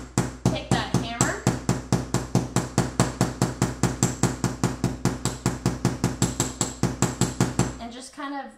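A hammer taps rapidly and evenly on the edges of a copper sunflower earring, dozens of sharp close metallic strikes in a steady rhythm, with a brief voice near the start and end.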